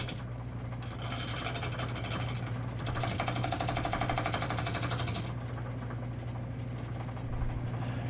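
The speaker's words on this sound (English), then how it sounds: "with priority of course given to keeping the lathe from bouncing all over the place. So turning it round first." A wood lathe turns a bowl blank, giving a steady loud motor hum with a rapid rhythmic chatter and scraping that swells and eases over the span, heard alone without talk.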